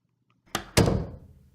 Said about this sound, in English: The door swung open.